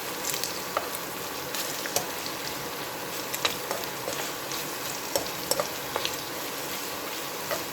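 Leftover rice fries in oil in a home kitchen pan, a bright steady sizzle with scattered crackles and the scrape of stirring, continuous and close with no talking.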